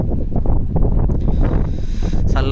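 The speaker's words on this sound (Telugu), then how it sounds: "గాలి వస్తుంది" Wind blowing at Badrinath Dakshin temple in Hyderabad, a steady broadband rush that stays loud and close for the whole stretch, with no talk over it.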